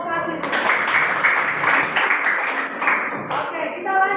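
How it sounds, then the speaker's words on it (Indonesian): A classroom group claps for a student team, a burst of mixed hand claps lasting a few seconds with children's voices and chatter running through it. "Tepuk tangan untuk kelompok kasih."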